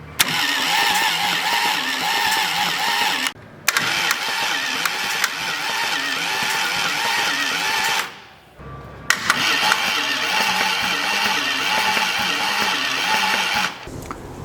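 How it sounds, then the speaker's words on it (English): A Toyota 1GZ-FE V12 fitted into a Lamborghini Countach replica cranks on its starter in a loud, continuous whirring roar, broken by two brief pauses before it cranks again, up close with no talk. "we're going to connect up the starter one more time for now and"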